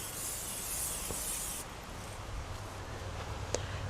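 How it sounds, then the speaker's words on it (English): Cooking oil sprayed from a can into a cast-iron dutch oven outdoors, a close, steady hiss lasting about a second and a half before cutting off, followed by quiet background rumble and a faint tap. "Give it a little spray with some oil"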